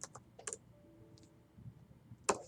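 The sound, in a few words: typing a command on a computer keyboard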